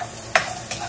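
Garlic and onion sauté in hot oil with a faint background sizzle, broken by a few quick scraping stirs of a spatula.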